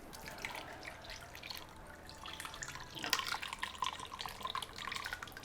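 Pineapple juice, one and a half cups, poured into a crockpot for teriyaki meatballs, a soft steady liquid trickle and splash that grows a little louder partway through, close by with no talking.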